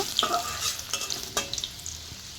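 Chopped garlic and three dried red chillies sizzle in hot oil in a wok, a close crackling fry broken by quick, sharp stirring scrapes.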